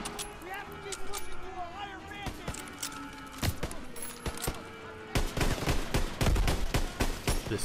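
Gunfire in the WWII shooter game Call of Duty: WWII: repeated rifle and machine-gun shots crack throughout, growing denser and louder toward the end, with people talking over the shooting.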